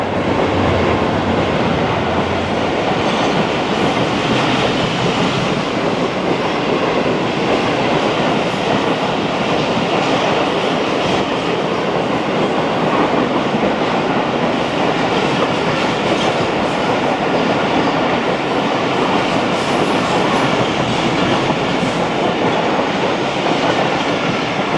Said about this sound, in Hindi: टेन डाउन अल्लामा इकबाल एक्सप्रेस जमपीर क्रॉस कर लिया स्लो स्पीड में।